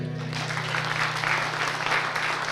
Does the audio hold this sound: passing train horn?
no